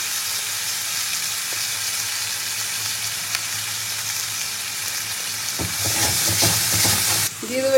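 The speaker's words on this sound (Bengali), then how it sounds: "পেঁয়াজ বাটাটা একটু ভাজিয়ে নিয়ে পেঁয়াজ বাটাটা ভাজার সময় একটু নুন হলুদও দিয়ে দেবো" Onion paste fries in a pan, seasoned with salt and turmeric, giving a steady close sizzle throughout, with stirring scrapes growing busier toward the end.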